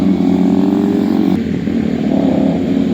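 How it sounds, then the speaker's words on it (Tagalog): A big motorcycle rides past nearby, its loud engine drone holding steady and then shifting as it goes by, with no talk over it. "Wow, big bike."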